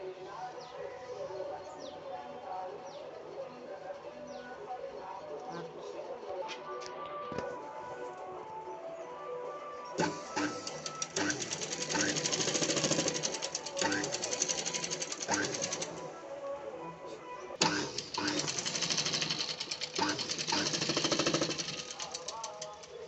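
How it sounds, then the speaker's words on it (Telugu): A sewing machine stitches a jacket in rapid mechanical bursts, quieter at first and then louder, long continuous runs with brief pauses, over a faint background hum. "ఇప్పుడు జాకెట్ కలిపి అతికేస్తానండి"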